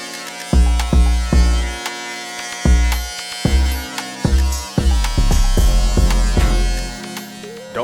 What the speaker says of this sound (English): So I got this clipper most of the way closed, but not closed.